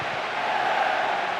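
Steady stadium crowd roar in PES 2008 on PS2 at kickoff of a Master League match, a continuous broad wash of distant voices and cheering with no pauses.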